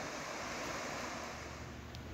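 Snoqualmie Falls in Washington gives a dense, constant roar near the base of its valley, a steady wash of water noise with a windy edge throughout the short stretch.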